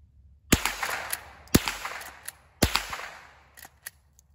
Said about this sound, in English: We're gonna go 2 shots here. Let's cycle it pretty fast here.